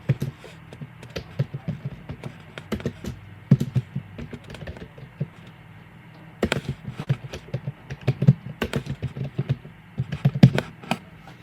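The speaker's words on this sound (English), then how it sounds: "Click there and type a clear name." Keys on a computer keyboard clicking in quick, uneven runs of typing, close and moderately soft, with a pause in the middle before another burst of keystrokes.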